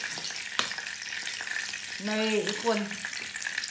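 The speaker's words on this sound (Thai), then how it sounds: "อันนี้จะตั้งกระทะไว้เพื่อจะทอดไอ้เนี่ย" Oil sizzles and crackles steadily in a pan as snakeskin gourami fish fries, with a person speaking briefly over the frying.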